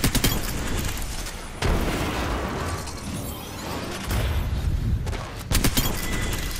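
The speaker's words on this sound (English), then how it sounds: "One grenade's inside. I got a grenade inside." Grenade blast in the Apex Legends battle royale game, a loud broadband burst amid dense gunfire and booming in-game combat, with sharp explosive transients near the start and again toward the end.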